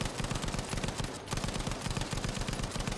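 Rapid automatic gunfire from a Battlefield V story-mode battle, dense repeated bursts firing steadily with a brief gap near the middle, loud and close.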